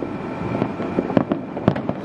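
New Year fireworks exploding over buildings in Jakarta, with repeated booms and crackling bursts rising over a steady crowd and city din, fairly close.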